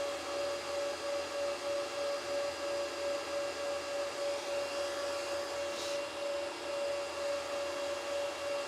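Noctua NF-F12 3000 RPM cooling fans spin at about 3,060 RPM in a home crypto mining shed, a steady airy whir with a constant high whine and a faint pulsing hum, close and unbroken.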